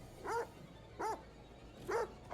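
Three distinct barks from a dog in a video game, evenly spaced about a second apart, moderately close and standing alone with no talk.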